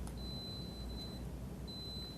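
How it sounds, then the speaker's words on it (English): The alarm on a Freedom Wallet sounds as a faint, thin electronic tone in two long steady beeps separated by a short gap, over quiet room hiss. "I'm going to hit sound alarm on the wallet"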